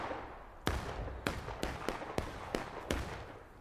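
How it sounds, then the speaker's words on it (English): Musket volleys in the Civil War game War of Rights: about seven sharp, separate shots crack out at irregular intervals over roughly three seconds, mid-distance, with no talk. "They're just blindly firing to the north."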